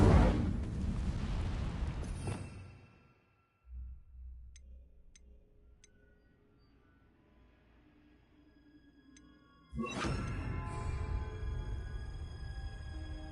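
A fire spell cast in Hogwarts Legacy: a loud roaring whoosh of flame opens, dies away into a quiet lull with faint ticks, then a second burst of fire returns and roars on steadily.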